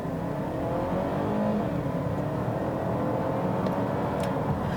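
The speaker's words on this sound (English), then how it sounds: "with that 8-speed automatic and 250 horsepower, let's put our foot down here, see how it feels." A 2019 Acura RDX A-Spec with a 250-horsepower engine and 8-speed automatic accelerating under full throttle, a steady engine drone heard from inside the cabin.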